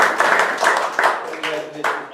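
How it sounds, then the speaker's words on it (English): A small group at a meeting claps in uneven bursts while voices talk over and between the applause, fairly close and loud. "this deserves another round of applause"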